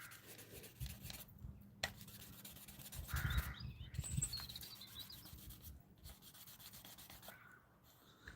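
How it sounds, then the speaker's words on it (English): The edge of Velcro-backed, felt-backed sandpaper rubs against a Honeywell Turbovisor DTVR part during refurbishment, giving faint, irregular close scratching strokes with short pauses and no talk. "I'm just using the sandpaper up on its edge"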